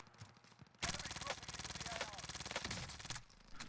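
Rapid bursts of SMG fire in the Warzone video game, a fast-rattling submachine gun opening up after a quiet start and sustaining dense automatic shots for nearly three seconds, close and loud.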